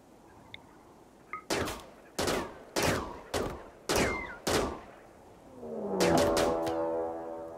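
Gunfire in the video game RimWorld as colonists shoot at migrating chinchillas: six sharp, evenly spaced shots ring out one after another, followed by a brief swelling rumble and tonal whine.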